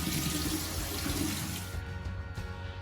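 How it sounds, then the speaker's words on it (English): Cold tap water runs steadily into drained pasta sitting in a sieve, a loud continuous splashing gush that thins out near the end, with no talking. "add some cold water to it to stop it from cooking."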